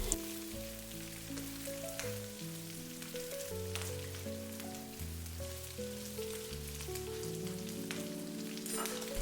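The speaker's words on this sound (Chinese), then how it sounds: "接下來倒入剛剛炒好的木耳雞蛋，快速翻炒均勻" Wood ear mushrooms and eggs with ginger and garlic are stir-fried quickly in a wok, giving a steady soft sizzle and scraping under prominent background music.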